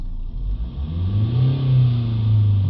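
A Mercedes diesel engine with a high exhaust pressure fault is revved once, rising from idle to a loud, close drone and holding there briefly.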